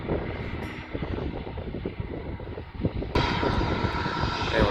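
An airplane taxis slowly, its jet engine giving a steady loud roar with a whine that jumps louder partway through, with wind buffeting the microphone.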